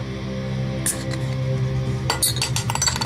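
Beer glasses clink together in a toast, with a single clear chink and then a quick run of bright clinks and rattles over a steady low hum of the room.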